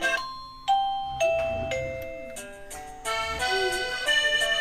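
A Bo Ying wireless waterproof doorbell plays a series of different melodic electronic chimes, each tune starting with a bright ding and ringing on in clear sustained tones, loud and close with no talking.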